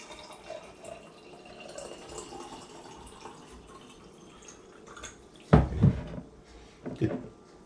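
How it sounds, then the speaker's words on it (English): Water is poured into a jar holding a level teaspoon of electrolyte powder, heard as a short splashing burst followed by a smaller second pour against quiet room background. "Add water."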